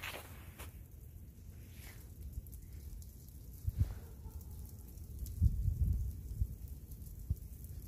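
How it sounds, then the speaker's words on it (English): Rain falls steadily through a cold snowstorm in town, a soft continuous patter with a few louder low thumps and rustles close by. "It's raining again."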